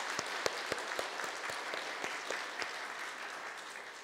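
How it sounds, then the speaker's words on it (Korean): A church congregation at a Korean New Year's Eve service claps in applause, the sound fairly soft and distant, with a few sharper individual claps standing out over the steady patter. "마지막 예배니까 한번 박수하도록 하겠습니다."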